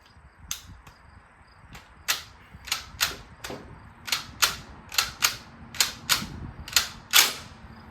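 An H&R CMP M1 Garand rifle action being worked by hand, with a round partly pulled out, giving a run of about a dozen sharp metallic clicks and clacks at irregular intervals.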